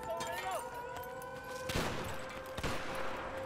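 Gunfire in Battlefield 4 multiplayer on PS4, a couple of sharp shots cracking over steady game ambience and tones, with players talking throughout.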